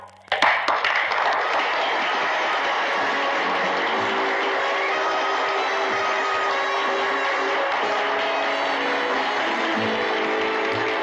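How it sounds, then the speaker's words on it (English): Audience applause and cheering erupt suddenly and hold steady as a dense crowd clapping for a finalist walking on at a televised beauty contest, with no talk over it. "they will be judged solely by your applause"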